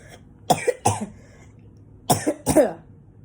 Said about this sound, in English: Don't mind me if I have to cough.